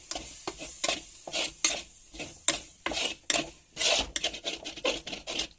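A spoon scrapes and stirs a mackerel fish curry in a pan, making repeated rasping strokes over a light sizzle, close by and without talk.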